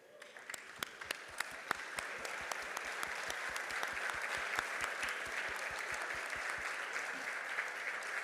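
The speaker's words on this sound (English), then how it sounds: "can we kindly rise and give a definite round of applause to those who have helped us along the way?" A graduation ceremony audience breaks into applause, starting with scattered sharp individual claps that quickly swell into dense, sustained clapping from a large crowd, heard at a moderate distance.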